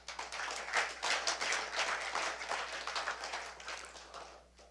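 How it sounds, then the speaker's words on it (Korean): An audience at a university lecture gives faint, scattered applause, a soft patter of claps heard from a distance that fades toward the end. "박수 한번 쳐주십시오"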